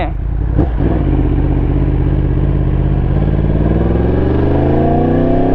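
Motorcycle fitted with a hand-operated gearshift riding along, its engine droning loud and close, with a clunk of a gear change early on and the pitch climbing steadily as it accelerates.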